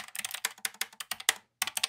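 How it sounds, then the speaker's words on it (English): Rapid clicky typing on a Keychron K7 ultra-slim keyboard with blue switches, a steady close patter of keystrokes with a brief pause before more presses. "the decibels between actually typing on the spacebar and typing on the keys actually seems to fit"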